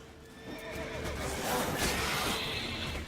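A horse neighs and whinnies during combat in The Witcher 3, a shrill drawn-out call with a few hoof clops over game sound effects and no talk.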